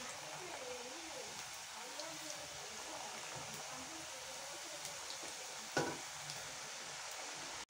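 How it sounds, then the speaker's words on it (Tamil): Chettinad kara thattai, flat spicy rice crackers, frying in hot oil, giving a steady continuous sizzle and bubbling close by with a brief louder splash near the end. "எண்ணெய் காஞ்சிருச்சு. இப்போ தட்டையை போட்டுக்கலாம்."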